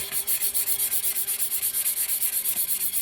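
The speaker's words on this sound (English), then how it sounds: "So I use the 150 sanding block." A 150-grit sanding block rubs back and forth across a tumbler in quick, even strokes, a steady rhythmic scratching of about eight strokes per second, close and moderately loud with no talking.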